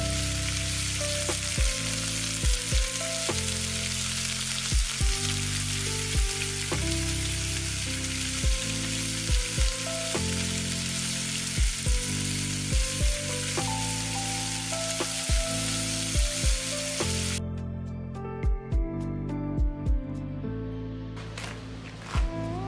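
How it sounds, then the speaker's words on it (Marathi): Chakli deep-frying in hot oil for a Diwali faral batch gives a steady, dense sizzle and bubbling throughout, with occasional clinks and stirring sounds; near the end the frying quiets and a few utensil taps stand out. "तर इथे ऑइल छान गरम झाल्यानंतर त्यात अशी चकली टाकून छान फ्राय करून घ्यायची दोन्ही साइडने"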